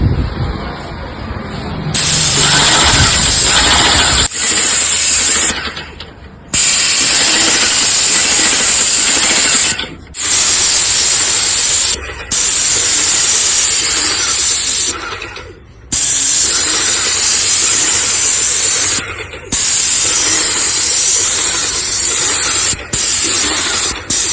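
An Asian Paints stnt8 spray gun machine sprays paint in loud hissing bursts, several in a row, each a few seconds long and separated by brief silent pauses.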